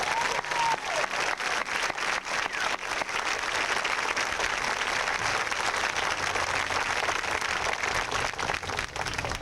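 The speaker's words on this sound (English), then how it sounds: "I would like to give a round of applause to Mr." A round of applause at a 1993 high school graduation for a teacher retiring after 37 years, dense clapping from a large crowd filling the hall at an even, sustained level.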